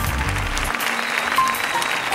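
An audience at an international song contest award ceremony applauds steadily, a dense, even wash of clapping from a large crowd in a hall, fairly loud and continuous throughout.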